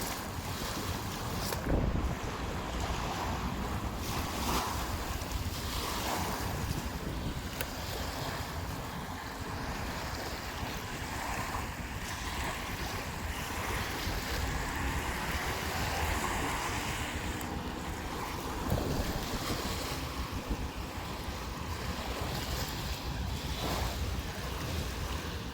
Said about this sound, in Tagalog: Ang sarap ng ano, ng simoy ng hangin dito mga bayan.